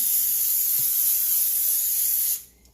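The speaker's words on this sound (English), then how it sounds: "And now I'm about to spray them with some olive oil spray" Olive oil spray misted onto raw pork chops before oven baking, a loud, steady, continuous hiss lasting about two seconds and then stopping abruptly.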